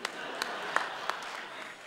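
Audience at a comedy show clapping, a steady wash of applause with a few sharper individual claps standing out, fairly distant and moderately loud.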